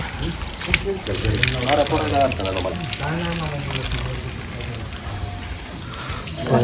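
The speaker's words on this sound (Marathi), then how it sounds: "पाय धुण्यासाठी. थोडे पाणी घ्यायचं" Water pours and splashes steadily at a Khandoba temple as feet are washed, a continuous gushing rush at close range with a person talking over it.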